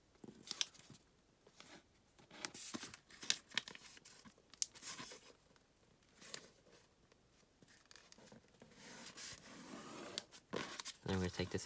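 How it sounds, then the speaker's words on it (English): Sheets of paper being folded for an origami rowing machine, with close crinkling, creasing and sharp paper snaps coming in irregular bursts under a man's spoken instructions. "We're gonna take this edge up here, fold it into the middle"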